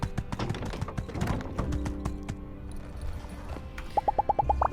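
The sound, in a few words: horse hooves clip-clopping in video game My Time At Sandrock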